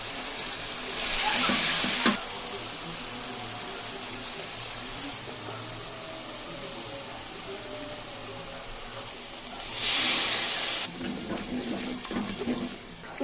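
Garlic and spices sizzle in a pan for a hilsa and kakrol curry, a steady frying hiss running throughout with two louder bursts of sizzling, like splashes of liquid hitting hot oil, near the start and again later.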